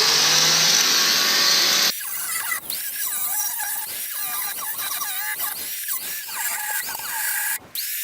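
A Makita power tool cutting: a loud, steady grinding whine with a high ringing tone runs for about two seconds and then cuts off abruptly. Scattered scraping and squealing noises follow at a lower level.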